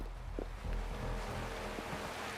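Steady rushing ambience of a waterfall in the video game Wuthering Waves, a constant broad wash of falling water with a faint low rumble and no speech.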